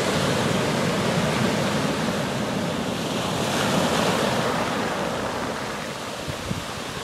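Ocean waves rolling onto Port Ouest beach in Réunion at sunset, a steady, full wash of surf breaking close by, continuous and fairly loud with wind blowing across the microphone and no voices.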